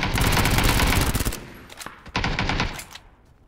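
Heavy automatic gunfire from outside a building in PUBG rattles continuously and loud at first, then breaks into scattered single shots and short bursts that trail off.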